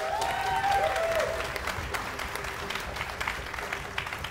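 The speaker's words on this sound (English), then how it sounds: "Round of applause for these folks." An audience at an orchestra concert of world-premiere works by Curtis composers applauds warmly. The clapping is steady and full throughout, with a faint whistle near the start.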